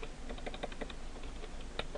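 Quick bursts of clicking keystrokes on a computer keyboard, close but faint, an uneven patter of taps with a brief pause before a final key press, with no voice.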